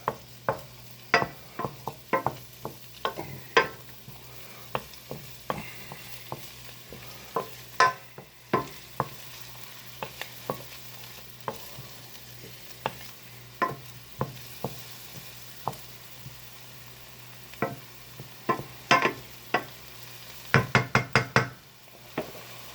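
Shallots frying in a pan on the stove for a rice risotto, with a utensil stirring and knocking against the pan in frequent sharp taps over a soft steady sizzle, ending in a quick burst of scraping strokes.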